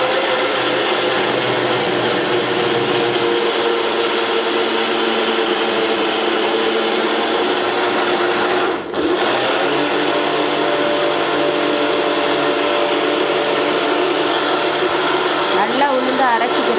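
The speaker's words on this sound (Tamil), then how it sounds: "நல்லா உளுந்து அரைச்சிக்கிடுங்க. நல்லா நுர வர மாதிரி அரைச்சிக்கணும்." A wet grinder grinds soaked urad dal into a frothy idli batter, giving a steady, loud, continuous whirring drone that runs the whole time with one brief dip partway through.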